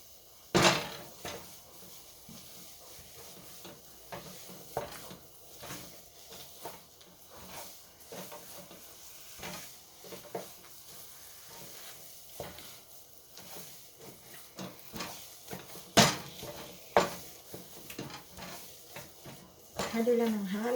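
Sticky espasol rice dough is stirred in a pot with soft, irregular scrapes and knocks of the spoon against the pot, fairly quiet and close, while a voice talks over the stirring.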